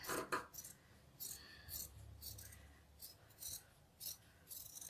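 Scissors snip through fabric for a handmade rag doll, a series of soft, quiet cuts spaced across a few seconds with faint rustling between them.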